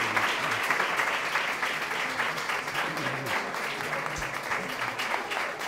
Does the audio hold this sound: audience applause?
yes